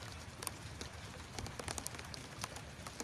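Light rain patters outdoors onto an unroofed hammock, a faint, steady spatter of scattered drops with no voices.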